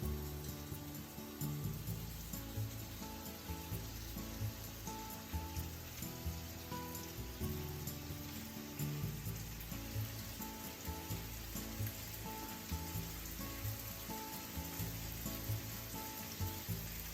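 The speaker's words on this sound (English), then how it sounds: "And just cook them as you roll them from time to time until the pork is completely cooked." Sweet potato and pork teriyaki rolls fry in vegetable oil in a frying pan, giving a steady close sizzle and crackle with occasional soft stirring knocks throughout.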